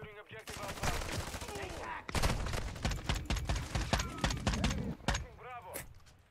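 Rapid gunfire in a Call of Duty multiplayer match, bursts of automatic shots crackling almost without pause, loud and close, with game announcer voice lines and other game sounds mixed in.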